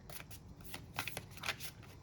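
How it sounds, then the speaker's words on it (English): Work Your Light Oracle cards being shuffled by hand, a run of soft papery riffles and slaps repeating through the moment with a few sharper flicks, close and fairly quiet with no talking. "I'm actually just going to probably shuffle them a few times and then pull some."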